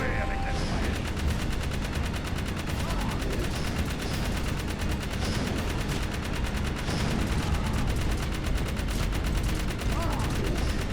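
Rapid turret gunfire in the Jak 3 video game, a dense continuous barrage of automatic shots with booms mixed in, loud throughout and overlapping game sound.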